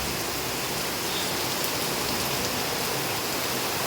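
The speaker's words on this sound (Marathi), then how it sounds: "पाऊस भरपूर पडतोय बघा" Heavy rain pours down in a dense, unbroken roar of hiss, loud and close, with no voices over it.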